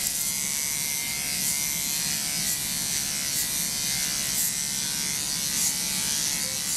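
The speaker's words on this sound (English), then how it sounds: "using a guide comb, you need to go over it a few times in order to get a nice result" Electric clippers with a snap-on guide comb buzz steadily as they go over a dog's coat, a close, even motor hum with slight rises as the comb passes through the fur.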